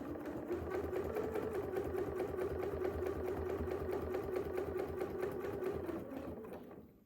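Sewing machine stitching in the ditch on a quilt block, a steady, fast, even mechanical whir and rapid needle chatter running continuously for several seconds, close up, then slowing to a stop, with no talk.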